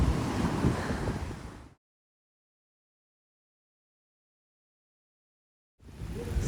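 Pouring rain and strong wind in New York City make a loud, rough roar that cuts out abruptly for several seconds, then returns just as harsh near the end.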